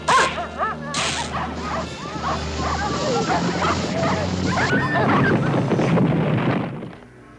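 A husky barks and whimpers in yips and whines, close and fairly loud, mixed with excited vocal sounds and a voice urging it on.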